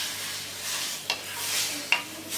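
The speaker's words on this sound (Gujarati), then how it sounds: "દહીં ઉમેર્યા પછી આપણે હલાવી લઈશું" Stirring yogurt into khichdi in a pan, a steady soft scraping with faint sizzle throughout, punctuated by two sharp clicks of the spoon against the pan; no talking.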